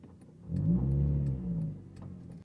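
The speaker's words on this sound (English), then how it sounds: "listen to my car right now if I had to reverse it" A car engine rumbles low and steady, swelling briefly as it revs, then settles back to a softer idle with faint ticking.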